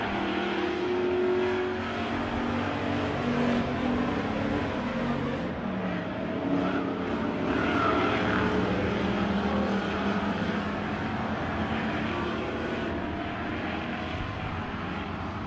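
Race cars roar continuously around an oval track at Emo Speedway in a season finale, a dense, steady engine drone with no break, heard from trackside.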